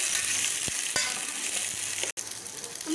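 Chopped small onions (shallots) sizzle and fry steadily in a hot pan for a Tamil dried-fish curry, a continuous close crackle with a few soft stirring knocks.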